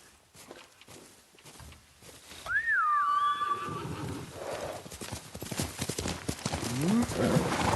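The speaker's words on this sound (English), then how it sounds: "I find that I often have to call the horse before he actually comes." A horse in the video game Ghost of Tsushima whinnies loudly after being called, then its hooves clip-clop at a steady walking rhythm close by, with a short whistle and game ambience around it.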